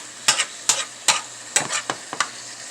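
Chicken sautéing in a pan for chicken Alfredo gets stirred in about six sharp scraping strokes over a soft steady sizzle, close and fairly quiet.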